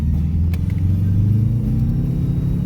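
Turbocharged Toyota Corolla under hard acceleration with its tires spinning, a loud, close, continuous engine rumble whose pitch rises steadily, with a few brief sharp ticks over the top.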